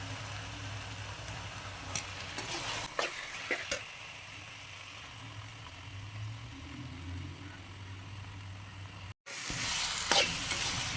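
Rabbit meat sizzles and fries in a pan with ginger-garlic paste and chili powder while a spoon stirs it, giving a steady close sizzle broken by scraping clinks, with no talking.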